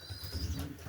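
Low, throaty pigeon coos rolling continuously, several birds murmuring together close by in an enclosed space, with no speech.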